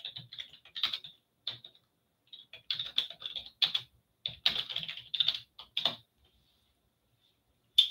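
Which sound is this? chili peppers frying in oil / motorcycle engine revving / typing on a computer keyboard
typing on a computer keyboard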